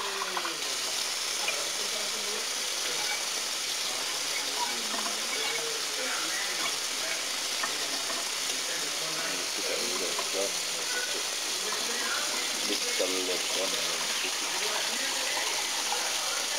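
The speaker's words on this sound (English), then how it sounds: "And you just basically keep rinsing it" Running tap water rinsing rice for an oxtail meal, a steady hissing stream with faint swishing of grains throughout, fairly quiet, with a voice talking softly over it.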